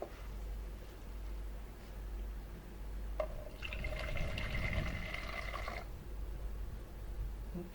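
Distilled water poured from a container onto a kitchen scale while making cold process coconut milk soap. A steady low hum runs throughout, and the pour itself is a brief trickling stream lasting a few seconds, with a faint rising fill tone.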